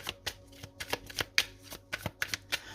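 Tarot cards are shuffled close by in a quick run of crisp riffling flicks and soft slaps, in short irregular bursts.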